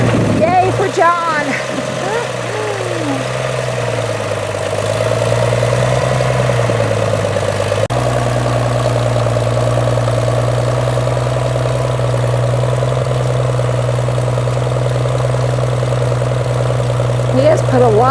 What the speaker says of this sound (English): He has put a lot of work into that old tractor and that old loader. So it's nice to see it working.